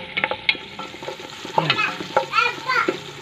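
Ginger, onion and garlic sauté in a pan for a beef skin bulalo, with a close sizzle and bursts of spatula scraping and stirring, no talking.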